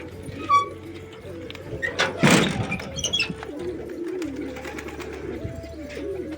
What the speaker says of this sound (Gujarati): આમ જ કબૂતર ખોલ્યા ખાલી કેમ કે આજ ઉડાડ્યા નથી